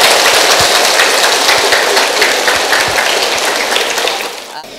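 A large assembly at a Buddhist Dharma retreat gives the Venerable long, loud, dense applause that roars steadily, then thins and fades near the end.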